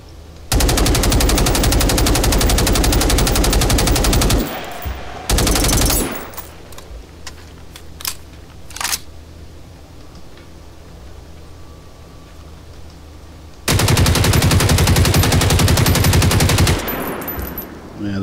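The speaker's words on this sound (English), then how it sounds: "Yeah, that sounds more like a gun." Loud automatic gunfire in the video game Generation Zero comes in long, rapid bursts separated by quieter gaps with scattered single shots and clicks, close and dominant.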